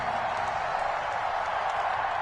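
Steady crowd applause and cheering from a stadium audience in an American football video game on PS4, a continuous broad wash of clapping at moderate level with no talk.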